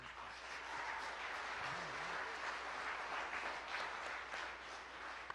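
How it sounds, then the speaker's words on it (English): Faint, steady applause from a banquet audience at an anniversary gala, a continuous wash of many hands heard from a distance with little else over it. "I think they all deserve another round of applause."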